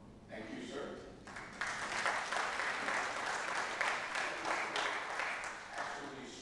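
Applause fills a city council chamber during a Buffalo landmark hearing, a steady broadband patter of many hands that swells after a brief lull and holds loud and close for several seconds.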